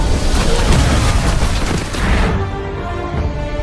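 A deep, rumbling blast fills the clip with dense broadband noise, then fades into a lower, ringing tail.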